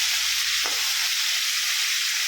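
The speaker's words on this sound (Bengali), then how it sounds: "তো চিংড়ি মাছগুলো কতটা ভেজে নিই" Shrimp fry in hot oil in a pan, giving a loud, steady, close sizzle with a faint stirring scrape early on and no voices.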